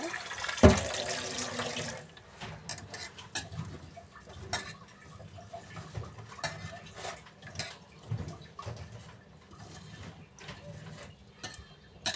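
Rice being washed by hand in water for khichuri, with sloshing and splashing, a louder burst of running tap water near the start, then continuing swishes and clinks close by.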